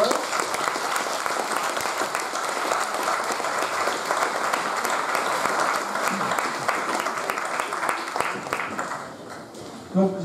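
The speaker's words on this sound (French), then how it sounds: "Tout le monde applaudir." An audience at a grand evening show applauds the mayor of Montmagreux, a sustained wash of many hands clapping that thins slightly near the end, with voices faintly mixed in.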